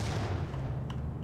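A deep, rumbling explosion from the early-2000s video game Max Payne, a low boom that fills the short moment at moderate loudness with no voices.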